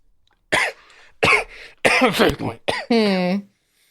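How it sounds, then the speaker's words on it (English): A series of sharp, loud coughs close to a microphone, several bursts in quick succession ending in a longer raspy hack, with silence on either side. "I had a cough."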